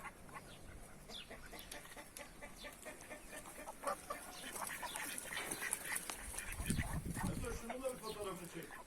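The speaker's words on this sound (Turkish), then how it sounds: "Evet kazlar ve yaban ördekleri bir arada." Geese and wild ducks quack in a busy, overlapping chorus with other fowl calling, fairly near, over a steady outdoor background with some low rumbling toward the end.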